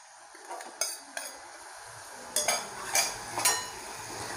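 A spoon stirs sweet corn with spices in a pan, giving a handful of light metallic clinks and scrapes against the pan, close and fairly quiet, with no talking.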